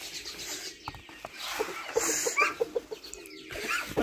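Hens clucking at feeding time, a cluster of close, repeated short clucks and soft calls over rustling and background noise, with a brief higher squawk midway.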